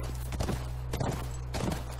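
A horse walks in The Last of Us, its hooves clip-clopping in a slow, even rhythm of three close footfall clusters over a low steady hum.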